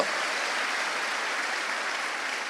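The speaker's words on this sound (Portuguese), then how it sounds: "Vamos aplaudir os nossos irmãos aí." A church congregation applauds in a steady, even wash of many hands clapping, fairly distant and soft, with no speech on top.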